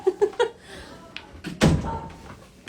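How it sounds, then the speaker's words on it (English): A house door is shut with a single heavy thud partway through, following a few short sharp knocks or taps at the start; the room is otherwise quiet. "Let me shut that door."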